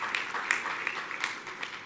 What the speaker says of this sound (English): A round of applause for my panelists, our panelists